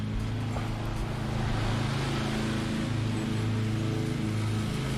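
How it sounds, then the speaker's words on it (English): A well-tuned lawn mower runs steadily while mowing grass professionally, a loud, constant engine drone with a low rumbling throb throughout. "That's the sound of a well-tuned lawnmower."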